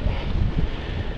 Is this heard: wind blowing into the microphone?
yes